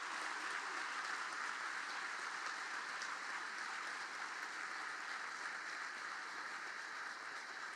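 An audience at a Navy League luncheon claps in sustained, even applause that continues at a steady level throughout, heard at a moderate distance.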